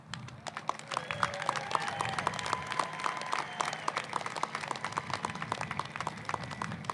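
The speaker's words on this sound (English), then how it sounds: "Graduates, we all celebrate you with a round of applause for your accomplishments" A graduation crowd applauding its seniors at a high school ceremony, a steady dense wash of clapping with scattered whoops, sustained throughout at moderate distance.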